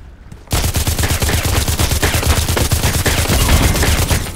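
Sustained automatic fire from a 416C rifle in the shooter game Contract Wars, a loud rapid burst of evenly spaced shots starting abruptly after a brief pause and continuing without a break.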